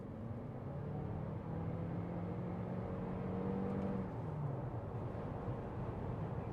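A Toyota RAV4 Plug-In Hybrid accelerates hard from 60 to 110, a steady whirring drive hum with a slowly rising engine tone holding even, moderately loud and unbroken throughout with no talking.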